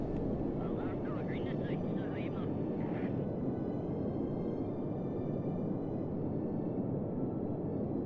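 Continuous loud rocket-engine roar from Valentina's craft in Kerbal Space Program, a steady broadband rumble running the whole stretch, with a voice talking faintly over it early on.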